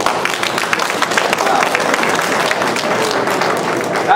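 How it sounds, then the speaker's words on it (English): Dense applause from an audience at the founding ceremony of a Taiwanese chamber of commerce in Gainesville, Georgia, a steady wash of many hands clapping continuously, fairly loud and close. "please give a round of applause for that"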